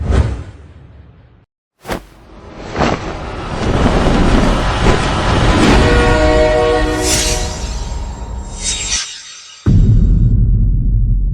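A train passes loudly and close in a sound effect, with a rushing rumble and whoosh under a long horn blast, then a brief pause before the heavy rumble returns.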